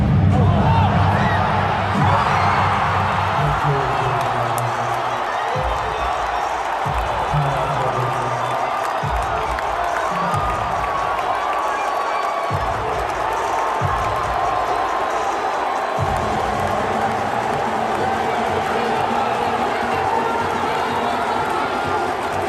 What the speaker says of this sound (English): the gasp of shock when the crowd realizes Steph is going to launch this shot, and then amazement when he makes the shot